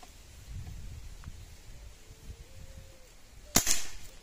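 Wind rumbles softly before a single crisp shot from an Artemis M25 PCP air rifle, 5.5 mm caliber, at 25 metres snaps, trailed by a short ringing tail.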